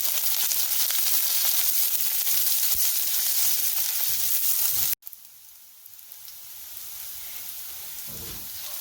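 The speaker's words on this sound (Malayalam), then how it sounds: "ഇനി പെരിഞ്ജീരകവും കുരുമുളകും ചേർത്ത് ഒന്ന് വഴറ്റിയെടുക്കാം." Steady sizzling and frying crackle from a hot pan as fennel seeds and black pepper sauté with curry leaves for egg curry, briefly cut off midway, then resuming at a quieter level with occasional stirring.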